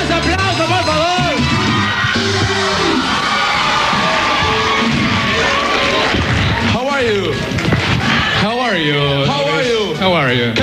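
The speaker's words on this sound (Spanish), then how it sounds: "más aplauso, por favor." Live audience at a television show cheers and applauds loudly and continuously, with shouts and whoops rising through the crowd and a voice calling out over it.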